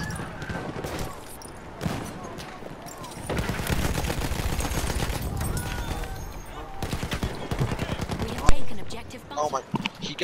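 Rapid bursts of automatic gunfire and single shots crackle through a Battlefield 1 match, dense and loud with brief gaps, while players talk over the shooting.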